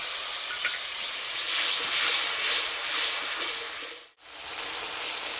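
Spice masala of turmeric and chilli powder sautéing in oil with a little water for Kashmiri aloo dum, a loud close hissing sizzle that swells and then cuts out briefly near the end before resuming, with no voices.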